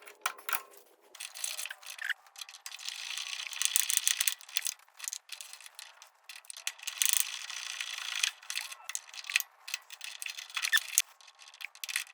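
A ratchet wrench works loose the lower shock absorber nuts and bolts on a 1963 Corvair front end, giving quick bursts of close, crisp clicking that stop and start for several seconds, with no voices.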